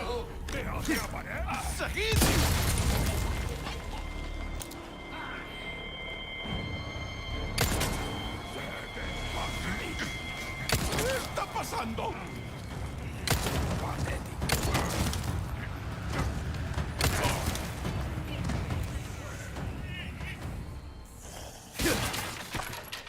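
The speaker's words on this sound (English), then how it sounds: "do I blow them all up with a grenade? I do now." A grenade blast goes off amid game combat in Resident Evil 4 Remake, a loud burst with debris and shattering crackle, followed by continuing gunfire and busy action noise over a long stretch, with someone talking now and then.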